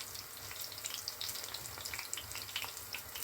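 Frozen chicken nuggets fry in a hot pan with a steady, dense crackling sizzle and scattered oil pops, close and continuous throughout with no talking.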